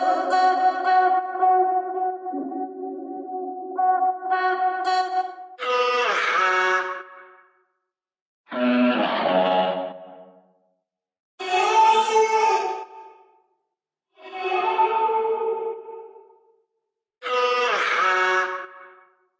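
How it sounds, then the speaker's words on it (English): Future bass vocal one-shots, pitched and heavily processed with echo and distortion, ringing out as short chopped syllables spaced apart by silent gaps. "some cool little vocal one-shots with some interesting processing"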